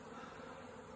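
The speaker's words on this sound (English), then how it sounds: "obviously the bees are hard at work doing what bees do" Honey bees in a freshly caught swarm, now housed in a hive box of comb frames, give a steady, dense buzz that runs unbroken and fairly close throughout, with no voices over it.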